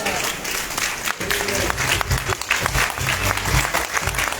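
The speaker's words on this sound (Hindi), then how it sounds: "जब अनबिलीवेबल तालियों में तो जोरदार होनी चाहिए भैया" An audience at a Modicare business plan presentation bursts into loud, sustained applause, a dense, even roar of many hands clapping close by for several seconds.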